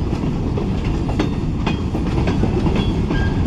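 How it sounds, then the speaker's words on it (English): A long freight train rolls past a road crossing near a scrap yard, a loud continuous rumble with rhythmic wheel clatter and occasional faint squeals, heard close and alone. "And man, is this a long train or what?"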